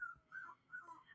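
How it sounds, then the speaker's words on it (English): Puppies from a litter whining faintly in the background, a few thin, rising whimpers repeating over about a second with a low hum beneath. "You can hear the puppies whining in the background."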